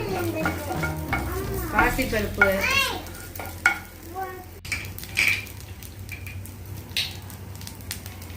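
A tempering of spices sizzles and crackles as it roasts in a hot pan while a spoon stirs and scrapes, with a voice talking over the first half.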